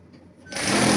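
A sewing machine stitching Christmas pyjama fabric starts abruptly halfway through after a near-silent moment, then runs as a loud, steady, close-up whir.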